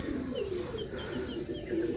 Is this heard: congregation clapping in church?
no